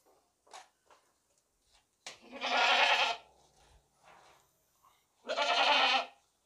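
A goat gives two loud, drawn-out bleats a few seconds apart, close by, with faint clicks and shuffling between them.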